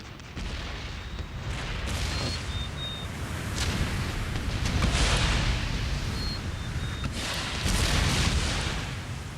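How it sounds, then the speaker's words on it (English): Musket and cannon fire in an Empire Total War battle: a continuous dense rumble of booming volleys and crackling shots, with several louder swells, distant and layered, with no talking. "And there it is, opening fire."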